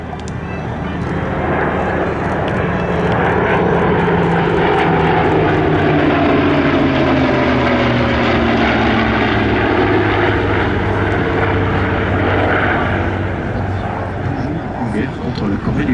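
A Korean War era propeller airplane at an airshow drones loudly overhead, its engine roar swelling and shifting in pitch as it passes, with a voice talking over it.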